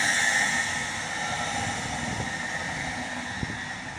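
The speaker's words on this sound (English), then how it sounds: "And as that train leaves, I shall leave this video there." A Great Western Railway nine-coach train departs Reading station, its low steady rumble and hiss fading gently into the distance, with a faint click near the end.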